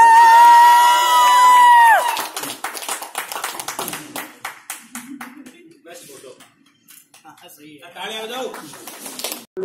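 Guests at a 75th birthday celebration break into scattered clapping and cheering to honour someone, following a held high tone, with a host talking over the crowd and the claps thinning out toward the end.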